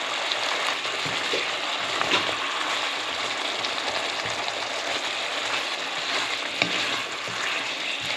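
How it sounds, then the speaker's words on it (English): Butter sizzles and fries in a pan with tofu, a steady hissing crackle throughout with a few small clicks of stirring or utensil contact, no talking. "you want to add some butter in. Tablespoon of butter."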